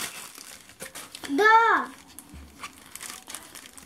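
Plastic packaging from a China parcel crinkles and crumples in one brief burst, close and moderately loud, amid a quiet room with a short exclamation from a voice.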